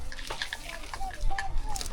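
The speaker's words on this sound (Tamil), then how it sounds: "வேப்பில் வச்சு தண்ணி ஊற்ற போகிறோம்" Water poured over neem leaves during a home ritual led by a village priest, a soft uneven splashing and sloshing that runs through the two seconds beneath people talking nearby.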